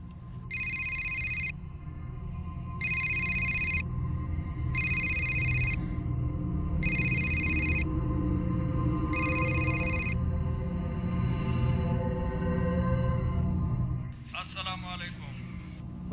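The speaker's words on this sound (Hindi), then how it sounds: "बरकत, फोन मिला, मैं खुद बात करता हूँ वडेरे से।" A telephone rings on an outgoing call, five evenly spaced electronic trilling bursts with pauses between them, heard over a low background hum before a click and a voice answer.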